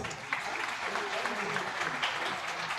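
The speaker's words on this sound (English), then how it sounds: "Shall we all give them a big round of applause?" Audience applause for graduates and postgraduates at a dental institute's graduation ceremony and annual day evening, a steady dense clapping that fills the whole stretch with no pause.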